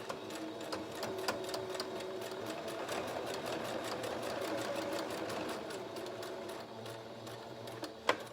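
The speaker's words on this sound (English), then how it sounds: "we'll turn the mask and sew down the side edge" A sewing machine runs a steady stitching line down the side edge of a fabric face mask, a fast even clatter held for several seconds with a brief stop near the end.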